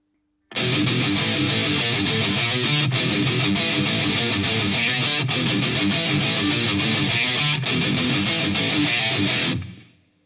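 A loud, driving distorted electric guitar plays a chorus riff alone, steady and continuous, with brief pauses between phrases before ending abruptly.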